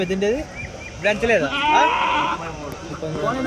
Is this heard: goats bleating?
yes